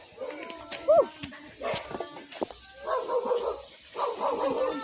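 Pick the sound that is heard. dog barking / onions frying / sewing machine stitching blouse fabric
dog barking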